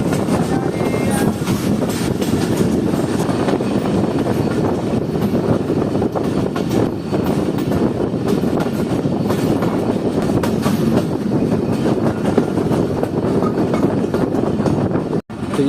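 Jand Passenger train 203 Down rolling along the tracks toward a station, a loud continuous rumble with steady wheel clatter and wind buffeting the microphone throughout, ending in a brief sharp knock.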